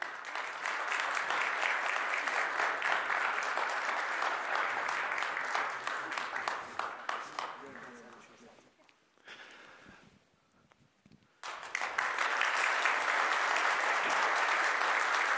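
An audience applauds loudly as children walk onto the stage at a formal event; sustained clapping dips for a few seconds midway, then swells back to full strength.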